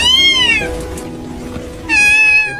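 A small abandoned kitten gives two long, loud, high meows, one at the start and one near the end, with a quieter stretch of low background rumble between them.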